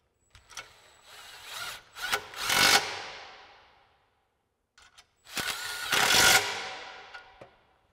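A 13 mm socket on an extension tightening the exhaust isolator bolts of a 2015-2024 Mustang GT fitted with an MBRP resonator-delete X-pipe, in two close ratcheting or power-driven bursts separated by a short silence, with no talking.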